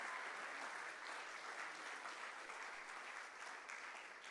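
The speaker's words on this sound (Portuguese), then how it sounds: "E Deus, pode aplaudir" A church congregation applauds, a dense, steady wash of clapping from many hands that stays even throughout, fairly distant and moderately soft, with no voices over it.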